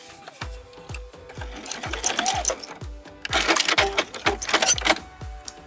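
A sewing machine stitches fabric binding in a run of rapid, regular needle thumps with faint rattling, close and moderately loud, with no talking.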